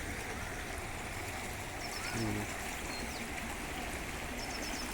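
Floodwater spilling over the brim of the big Kudligi lake and running on, a steady rushing wash throughout, with a brief low thump near the middle and faint bird-like calls far off.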